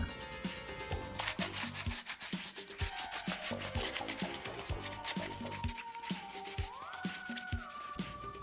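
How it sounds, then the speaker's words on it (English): Steady back-and-forth rasping of 320 grit sandpaper rubbing a plastic hockey mask, close up, in rapid rhythmic strokes with a faint tonal hum in the background. "we will go over the entire mask with 320 grit sandpaper"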